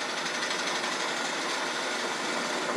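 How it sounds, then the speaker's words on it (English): Steady high-pitched whine of a 1/4 inch depth drill boring into the center of a cherry bowl blank with barbed wire, continuous and fairly loud for the whole stretch with no talking. "We're using a 1/4 inch depth drill."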